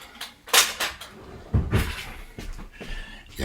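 Someone rummages through kitchen cutlery and cupboards hunting for a spoon: a run of close clattering metal clinks and knocks, with a couple of heavier thumps and rattles over about three seconds.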